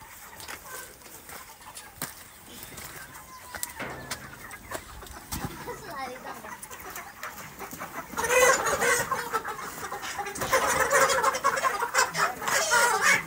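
Chickens cluck at a poultry farm where birds are being loaded for weighing, the clucking and flapping scattered at first, then swelling into a loud, dense racket of many birds over the final five seconds.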